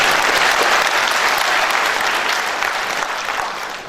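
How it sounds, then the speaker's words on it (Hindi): Auditorium audience applauding during a parenting talk at Navnirman Auditorium, a dense, loud wash of clapping that slowly tapers off. "ताली तो ढंग से बजाओ"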